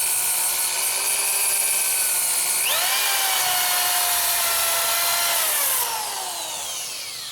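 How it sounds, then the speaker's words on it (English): A wood lathe spins a turned workpiece being finished with CA. A loud, steady motor whine jumps higher in pitch partway through, holds, then starts to wind down at the end. "lighten it up and turn on the lathe. Now I'm not gouging, barely touching."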